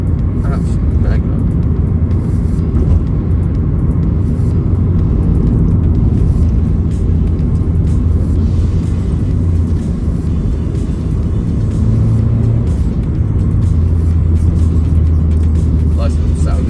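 A 2001 Subaru Impreza 2.0 GX engine runs and pulls steadily, a continuous low droning rumble that stays loud throughout, with a voice talking over it.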